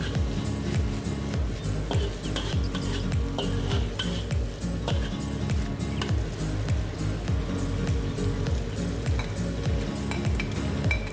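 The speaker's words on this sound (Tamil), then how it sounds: "வதக்கிடலாம்." Garlic and tuna sauté in a hot pan with steady sizzling and frying, broken by frequent stirring scrapes and spoon-on-pan clinks, loud and close throughout with no talk.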